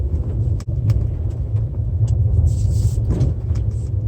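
Nissan Murano SUV rolling over a bumpy unpaved trail, a steady low road rumble and engine drone with faint rattles and a brief thump near the start, continuous and close throughout.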